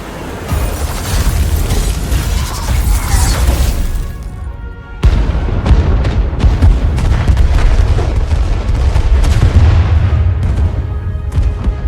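Starship weapons fire in the Star Trek: Resurgence video game, heard as loud, dense booming blasts and rumbling impacts. They run almost continuously, with a brief cut near the middle.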